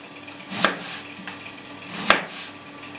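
Two sharp knife chops through eggplant on a cutting board, spaced apart, with soft scraping and handling sounds between them, close by.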